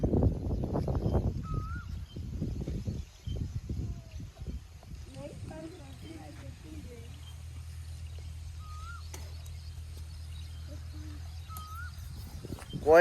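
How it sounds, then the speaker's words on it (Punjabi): An Asian koel calls from a tree near a house, its rising whistled note repeating three times at a distance and fairly faint, following a stretch of close talk at the start over a low steady hum. "ਕੋਇਲ ਦੀ ਬੋਲੀ ਕਿੰਨੀ ਪਿਆਰੀ ਹੁੰਦੀ ਹੈ, ਬੈਕਗ੍ਰਾਉਂਡ ਤੇ ਤੁਹਾਨੂੰ ਸੁਣਾਈ ਦੇ ਰਹੀ ਹੋਵੇਗੀ"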